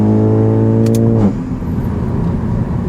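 A Stage 2 MK8 GTI fitted with a downpipe accelerates, its engine note rising loudly and steadily with turbo whir before easing off into a lower, rougher drone.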